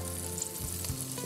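Pancake batter fries in a pan with a steady, close sizzle that holds evenly through the short stretch.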